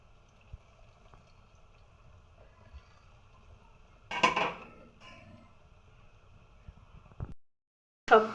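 Chicken-and-bread balls drop one at a time into hot oil in a frying pan. Each drop brings a short, bright burst of sizzling, with only a faint, quiet hiss in between. No one speaks.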